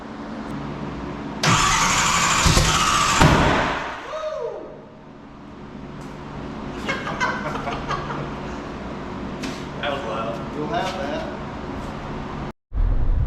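A 104mm turbo Datsun 280Z engine cranks and fires for the first time, loud and close. A harsh roar drops away, then the engine sputters and idles unevenly, with voices calling out around it.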